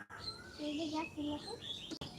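Bright, high chirps flutter repeatedly over a soft background, with a voice mixed in among the bird calls.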